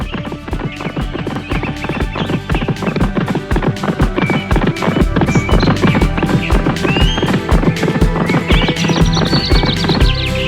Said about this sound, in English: Now the horse took off as fast as he could.